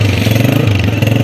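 A motorbike pulls away with a steady, loud mid-pitched engine drone and a pulsing exhaust throb, close and continuous throughout, with no talk over it.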